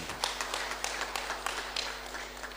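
An audience at a provincial assembly clapping in a hall, a dense, steady patter of many hands at moderate distance under a constant low hum.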